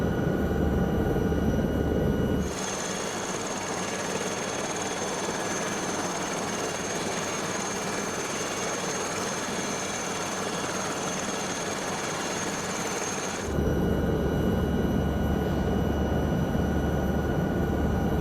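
Helicopter engine and rotor drone in Microsoft Flight Simulator, a loud continuous whine and rumble that shifts to a muffled cockpit tone for a stretch before returning to the fuller outside sound, no talking.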